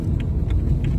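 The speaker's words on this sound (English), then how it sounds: "The jumping of this car." A car jolts over a bumpy road, a heavy low rumble from inside the cabin broken by a few quick thumps and rattles.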